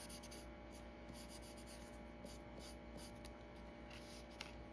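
A marker or pen coloring a paper card's outline in black gives a steady, soft scratching rub that continues without a break under a faint background hiss.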